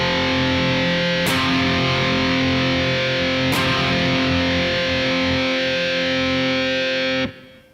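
Heavily distorted electric guitar in a black metal style, a chord shape moved a whole step higher, strummed three times and held as a loud, thick, ringing wall before being abruptly muted.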